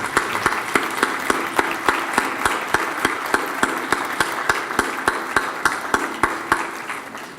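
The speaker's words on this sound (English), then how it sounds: "Please join me in a rounding applause for their parents." Audience clapping for parents at a leaders and achievers ceremony, a steady wash of applause with a few sharp, regularly spaced individual claps standing out near the microphone.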